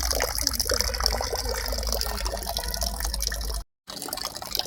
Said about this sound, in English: And then we have the water coming out